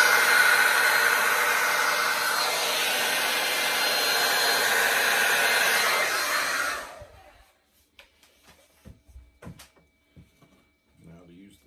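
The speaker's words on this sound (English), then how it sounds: "I'm going to use the hair dryer to push the stuff up on it." A hair dryer blows acrylic paint across a John Deere themed painting, a loud steady rushing roar for about seven seconds that cuts off, followed by quiet scattered clicks and handling noises.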